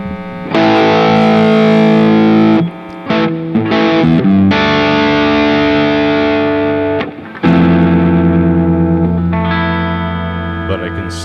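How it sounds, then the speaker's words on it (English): An electric guitar played through a Nobels ODR-1 overdrive with the gain at full gives thick, saturated chords and riffs. Loud phrases ring out and sustain, broken by two brief pauses. "This Nobels has a more pronounced distortion. So we'll go full blast on the gain here."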